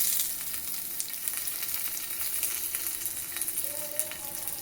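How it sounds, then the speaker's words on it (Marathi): Leftover chapati pieces roast in a hot pan as a breakfast dish, a constant close sizzle and crackle running the whole time with faint stirring and no talking. "आता ह्यो असा भाजून हे बनल्यावर दाखवते."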